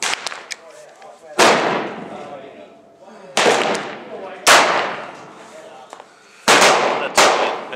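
.45 ACP rounds fired from a 12 gauge shotgun through a chamber adapter ring out outdoors as four sharp, loud reports a second or two apart, each ringing out into a fading echo.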